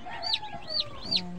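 A fresh batch of about fifty newly delivered day-old chicks gives three thin, high-pitched peeps in quick succession over a low background hum, close by and fairly soft.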